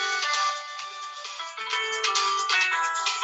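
A mobile phone rings with a bright, repeating electronic melody. The tune is loud and steady throughout, with no talking over it.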